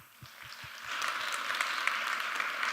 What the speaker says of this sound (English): And everybody give Adam a round of applause.